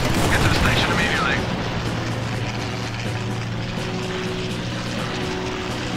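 Incoming enemy fighter planes in the WWII air-combat game Combat Wings: Battle of Britain, a steady propeller-engine drone with a brief wavering whine early on and a low rumble underneath, while a voice talks over it.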